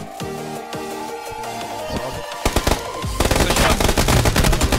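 Gunfire in the PUBG battle royale game during a community tournament match: scattered single shots early, then dense rapid automatic bursts building loud and continuous toward the end, with commentary voices faintly underneath.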